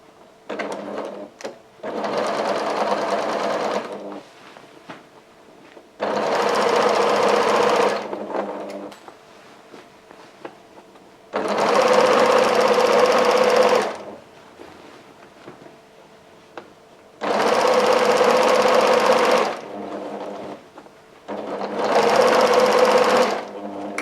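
Domestic sewing machine stitching the seams of a charm square patchwork tote bag, running in five steady bursts of a few seconds each, separated by quiet pauses with faint handling sounds; loud and close, no talking.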